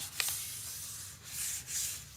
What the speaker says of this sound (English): and I just did a quick little sanding of this